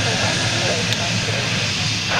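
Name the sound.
aircraft after rejected takeoff at Zurich airport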